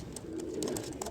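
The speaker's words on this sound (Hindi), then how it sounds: "लाल आंखों के कबूतर हैं, बड़े शानदार।" Red-eyed pigeons, a pair including a male and a female, give a short, close, murmuring coo with soft rhythmic pulses.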